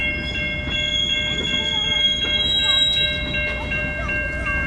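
A Norfolk Southern freight train rolls steadily into a rail yard, with a continuous loud rumble of wagons and high, sustained wheel squeal held as bright ringing tones throughout.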